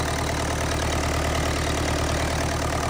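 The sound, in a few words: International AW7 tractor engine running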